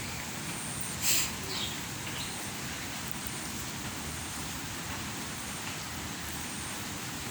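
Rain falls outside on a gloomy day as a steady, even hiss with no pauses, distant and soft, with one brief faint chirp near the start.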